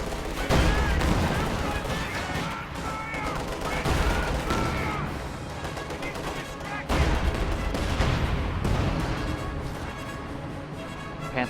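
Battlefield gunfire and mortar fire tearing into infantry during a video game match, dense overlapping bursts and booms throughout with a sharp heavy impact partway through, loud and continuous, with voices mixed in.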